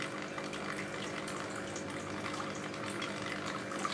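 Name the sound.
water filling an aquaponics flood and drain system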